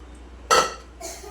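Metal cookware clatters sharply once, then a softer clink follows, as food goes into a pressure cooker in a home kitchen; brief and close, no talk.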